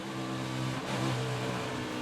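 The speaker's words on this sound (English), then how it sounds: "You hear right there, the engine starts sputtering and missing." A NASCAR race car at Texas running out of fuel, its engine sputtering and missing; an uneven, wavering mid-pitched drone with a brief dip and stumble partway through, heard without talk.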